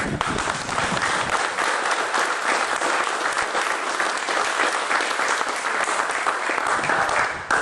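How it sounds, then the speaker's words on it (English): A crowd at a small business forum breaks into sustained applause, loud and even from start to finish, a thick wash of many hands clapping together. "Let's give both of them a round of applause."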